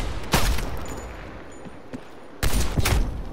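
Two loud, sharp sniper rifle shots in a video game, spaced about two seconds apart, each with a brief echoing tail, over quiet background between them.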